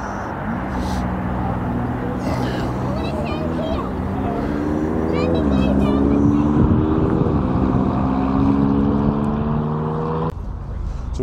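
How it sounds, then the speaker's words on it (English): Cars pulling away from a farm shop car meet, among them a Ford Fiesta ST and an Audi RS3, their engines droning and rising as they roll past close by. Voices talk faintly over the engine noise. "So we've got an ST leaving, we've got the RS3 leaving, we've got Ford Fiesta ST leaving."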